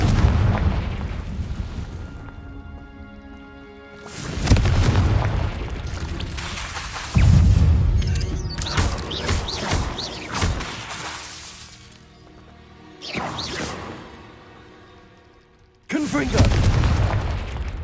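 Repeated booming blasts from the Confringo fire spell in the game Hogwarts Legacy, loud deep explosions with shattering crackle and debris, several bursts spaced apart over a rumbling game soundtrack, with talk in between.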